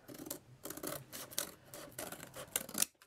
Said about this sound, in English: And then I can trim that bit off.